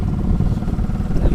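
A motorcycle engine runs nearby with a low, steady putter, heard for a brief moment.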